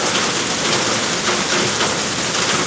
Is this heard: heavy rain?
yes